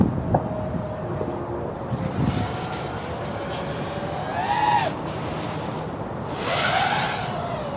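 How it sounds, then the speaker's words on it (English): A 7-inch Cinelifter drone hovers in gusty wind. Its propeller whine rises and falls in pitch while wind rumble buffets the microphone, and strong gusts swell near the end. "You can hear it buffeting in the wind"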